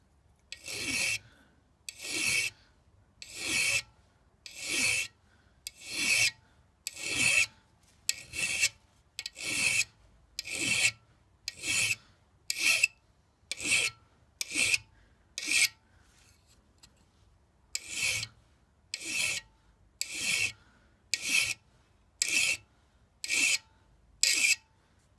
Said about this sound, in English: You can see that I'm moving the file